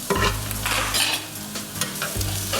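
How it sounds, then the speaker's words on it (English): Orange pepper sautéing in a paella pot gives a close, loud sizzle with scraping stirs, and a low hum runs underneath in bursts. "we're gonna add the"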